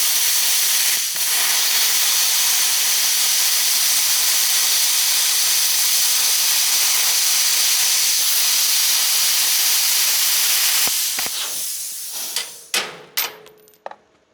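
A BestARC BTC500DP plasma cutter slices through 3/16-inch metal at about 30 amps with a loud, steady, close hiss that runs for roughly twelve seconds, then stops and is followed by a few sharp clanks of metal.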